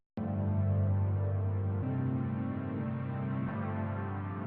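A music sample slowed to half speed with the Gross Beat plugin, sustained low, dragging tonal chords playing steadily at moderate level with a couple of subtle shifts, no talking.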